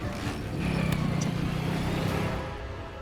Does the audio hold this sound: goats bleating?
no